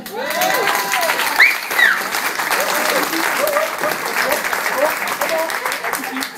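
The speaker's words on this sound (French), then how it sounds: "Max Cabane, là on peut l'applaudir" An audience applauds the Angoulême Grand Prix comic-book artist Max Cabane, with steady crowd clapping under scattered voices and a few whoops rising above it.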